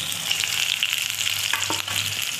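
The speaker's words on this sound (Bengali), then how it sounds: "এরপর কুচানো পেঁয়াজগুলো দিয়ে দিলাম" Chopped onions dropped into hot oil with cumin seeds for a Bengali prawn masala curry, a loud, close, continuous sizzle and crackle with a brief stirring scrape, no voices.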